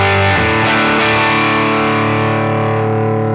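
Electric guitar through a modeled amp on a Line 6 Helix, a loud distorted chord struck and left ringing with aggressive high end, slowly decaying and alone.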